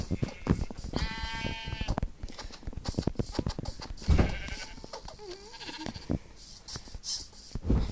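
Blocky sheep in Minecraft survival mode bleat a few times in short, wavering cries, with game footstep clatter and faint talk underneath.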